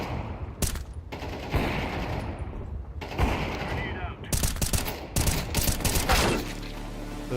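Bursts of video game gunfire, rapid volleys and automatic fire broken by short gaps, loud and close, with a voice talking over parts of it.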